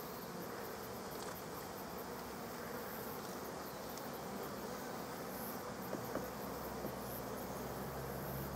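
Honey bees buzzing at an opened hive while being moved to a long bench hive, a dense continuous hum with a few sharper close passes, with no voices.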